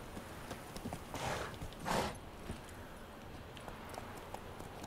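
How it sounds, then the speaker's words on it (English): Horse hooves clip-clopping in The Witcher 3: Wild Hunt video game, a soft steady trotting rhythm with two louder swells of movement near the middle. "come here, horsey"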